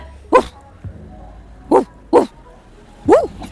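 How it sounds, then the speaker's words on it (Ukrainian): A Jack Russell terrier barks on command outdoors during obedience training, giving four short, sharp, close barks spaced about a second apart, with one small yip near the start and quiet pauses between. "Не боїться на вулиці гавкнути."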